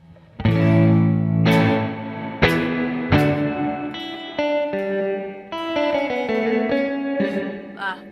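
Distorted electric guitar played through a Teisco practice interface with reverb and echo added, loud strummed chords and single notes ringing out with a wet, spacious tail, no voices.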